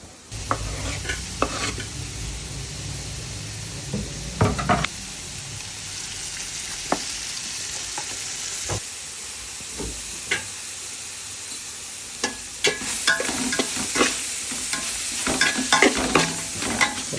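Pan-fried dish being stirred with salt added, ginger and green chillies in the mix: repeated scraping spoon strokes over a steady close sizzle, with bursts of clatter at the start and again toward the end.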